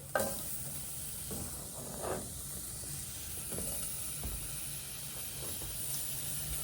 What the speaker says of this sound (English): So now I'm going to add the zucchini